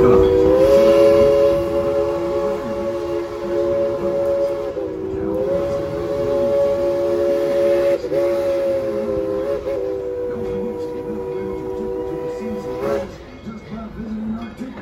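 Tweetsie Railroad heritage train coming to a stop, a long steady whistle tone sounding under rumbling wheels and rail clatter, fading lower near the end.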